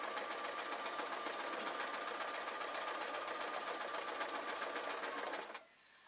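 Sewing machine running a zigzag stitch on stretchy T-shirt fabric, a steady rapid mechanical whir and clatter at close range that stops abruptly near the end.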